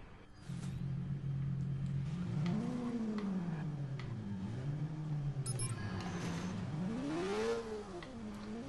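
A vehicle engine in the video game Watch Dogs revs up and down repeatedly, rising and falling in pitch, a loud, continuous roar heard without any talk.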